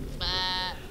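A single sheep bleats close by in a mountain flock, one steady harmonic cry lasting about half a second over a low background rumble.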